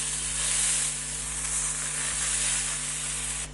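Bean, mushroom and beef burger patties sizzling steadily in a frying pan, a continuous close hiss with a faint low hum beneath, and no talking.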